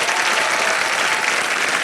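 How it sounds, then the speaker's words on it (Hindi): A studio audience on a game show gives a band loud, dense applause, a continuous roar of many hands clapping at once, close and alone. "जोरदार तालियां उनके लिए"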